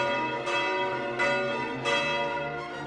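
Church bells ring with three distinct strikes, each leaving a long, shimmering resonance that overlaps the next.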